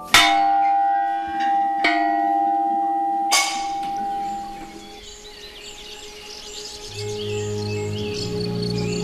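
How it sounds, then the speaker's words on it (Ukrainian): A tower bell atop an eight-storey tower at a castle complex is struck twice, ringing out loud and clear, each strike leaving a long, shimmering hum that slowly fades into outdoor ambience with insects and birds. "На вершині восьмиповерхової вежі розташовується баштовий дзвін. Згідно з легендою, в нього необхідно вдарити."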